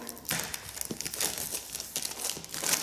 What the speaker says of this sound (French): on enlève l'emballage plastique